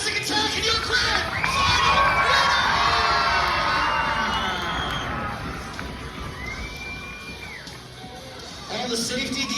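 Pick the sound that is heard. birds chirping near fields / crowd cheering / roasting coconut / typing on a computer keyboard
crowd cheering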